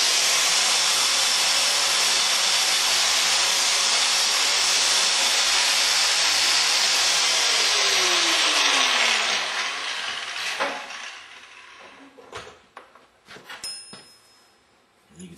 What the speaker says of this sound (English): Maybe what I can do actually is touch it with the grinder real quick.